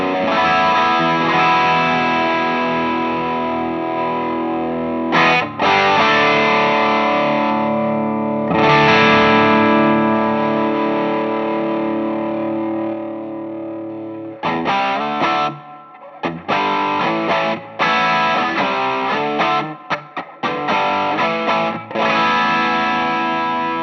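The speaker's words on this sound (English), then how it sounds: "Tube Screamer" Electric guitar played through the Tube Screamer clone effect of a Fender Mustang Micro Plus into an amp, with reverb: driven sustained chords and choppier strummed passages, loud and steady, without talk.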